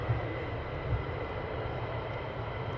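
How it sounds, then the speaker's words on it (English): F-35 fighter jets taxiing at RAF Lakenheath, a steady distant low engine rumble with broadband roar and no clear change in level. "to the F-35s now taxiing down, as you can see."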